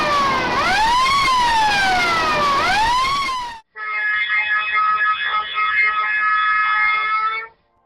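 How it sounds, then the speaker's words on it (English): Fire alarms on a drilling rig: first a loud wailing siren sweeping up and down in slow cycles, then after a brief break a steady harmonic alarm tone that holds and cuts off. "These are the alarms in case of fire."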